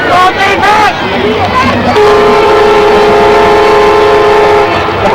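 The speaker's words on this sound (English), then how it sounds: "Barry, we were hoping for a train to come through here" A train rolls past a high school football game in Homewood, loud and near, with a long sustained horn blast over rumbling wheels and crowd noise, while voices murmur underneath.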